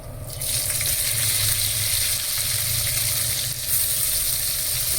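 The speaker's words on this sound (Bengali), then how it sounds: "লাল লাল পেঁয়াজ তুলে দিচ্ছি, পেঁয়াজ কুচি।" Chopped onions frying in a pan with panch phoron, a steady loud sizzle that hisses continuously throughout without pause.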